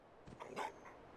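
A dog in the Fallout 4 video game gives a few short, soft barks and yips that break into a brief whimper, quiet and alone.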